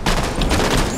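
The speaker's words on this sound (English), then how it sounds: "Enemy fire." Dense burst of gunfire in Halo 5: Guardians Slayer multiplayer on the map Eden, a loud continuous rattle of rapid shots filling the whole moment with no voices over it.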